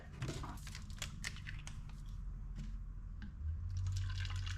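Wet spraying and splashing as water is squirted during protective film installation on a Ford Bronco windshield, with scattered drips and sharp hissy bursts, close by, a steady watery hiss building louder near the end.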